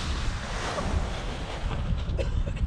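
Strong wind gusts buffet the microphone in a continuous rough roar during paraglider kiting, with faint water sounds underneath and no voices.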